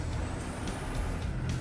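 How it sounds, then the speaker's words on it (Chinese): Heavy rumbling of a large special heavy-duty transport vehicle hauling a 450-ton gantry and counterweight load, with a steady low engine drone and faint hissing bursts, continuous and fairly close. "重型特种运输车是世界上轮胎最多、最强悍的载重运输设备"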